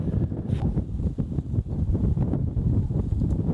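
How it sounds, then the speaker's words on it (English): Strong wind buffets the microphone outdoors on a live safari drive near a fence line, a steady loud roaring rumble with gusty swells throughout and no voices. "Still quite a strong wind."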